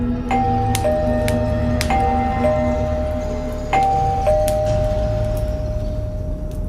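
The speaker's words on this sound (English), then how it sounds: "The bell rang again." A doorbell in a creepy story rings twice as a two-tone ding-dong, with clear bell tones that linger, over a low steady rumble.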